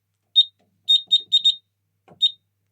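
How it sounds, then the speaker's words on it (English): Apollo XP95 smoke alarm sounding during a fire alarm system test, giving six short, loud, shrill beeps in an irregular cluster with brief silent gaps and no talking. "especially when I'm testing the smoke alarm in the hallway"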